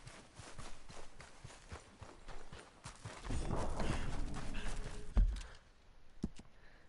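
In Red Dead Redemption 2, horse hooves clip-clop in a steady walking rhythm, then a rushing gallop-like burst and a thud, before a few scattered hoofbeats.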